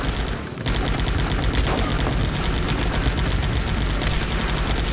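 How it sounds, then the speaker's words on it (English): Sustained automatic gunfire rattles without a break at a sniper tower in the video game Guns Up!, a dense, loud barrage of overlapping shots that starts after a brief lull and keeps going to the end. "they're shooting my sniper tower"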